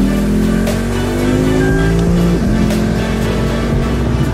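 Red Japanese sport sedan accelerating hard in sport mode with traction control off, the close, loud engine note climbing, briefly dropping at an upshift, then pulling again.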